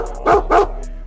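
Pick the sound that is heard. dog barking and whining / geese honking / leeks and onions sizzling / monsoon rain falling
dog barking and whining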